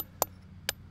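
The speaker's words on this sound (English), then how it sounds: "now I can come in and just trim it off" A small carbide chisel cutting soft lead on a cemetery monument, giving three short, sharp clicks spaced apart and close to the microphone.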